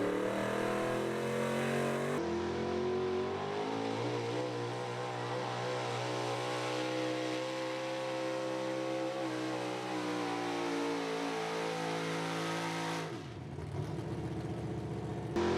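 Big block 4x4 pulling truck launching off the line at a truck pull in Fishersville, VA, its engine roaring loud and steady at high revs for about thirteen seconds, with harmonics climbing through the pull before dropping off abruptly.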